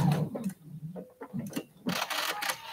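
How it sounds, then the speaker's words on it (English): A sewing machine stitches quilt binding near a corner in short rapid bursts separated by pauses, with quiet clicks between runs. "I'm going to sew 3/8 of an inch away, needle down, foot up, pivot my quilt, foot down, and sew right off that corner"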